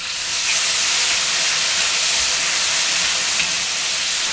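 Pork and shrimp sizzle as they are stir-fried in a wok, making a loud, steady, bright hiss close to the microphone that runs without a break.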